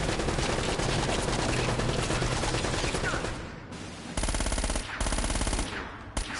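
Close, loud machine gun fire in the video game Uncharted rattles in dense sustained bursts, briefly easing, then resuming in shorter volleys.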